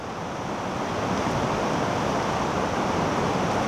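Ocean waves wash onto a beach in Hawaii as a steady, dense roar of surf with a breezy hiss, unbroken and without voices.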